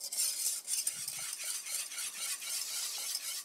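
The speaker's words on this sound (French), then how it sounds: "Là, je remue légèrement ma casserole." Lemon yuzu cream being stirred in a saucepan, soft scraping and swishing strokes repeating unevenly, quiet and close, with a faint clink of utensil against the pan and no talking.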